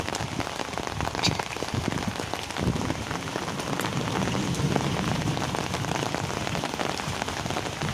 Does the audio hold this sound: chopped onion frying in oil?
no